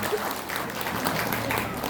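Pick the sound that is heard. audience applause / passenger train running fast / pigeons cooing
audience applause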